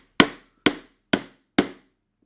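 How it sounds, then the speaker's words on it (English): A hammer drives nails into wood on a small piggy bank woodworking project, four sharp, evenly spaced strikes ringing out close and loud, with no talking. "Alright, and then finish driving the nails."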